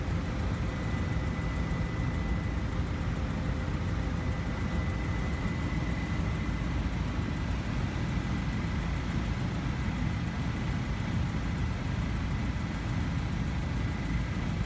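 Cabin noise from the backseat of an eVTOL aircraft in bumpy low-level flight, a steady loud broadband whine and hum with faint tonal lines, continuous and unchanging.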